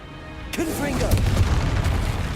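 A Confringo blasting spell in the game Hogwarts Legacy erupts as a sudden loud burst with crackling rumble, heard under an overlapping voice.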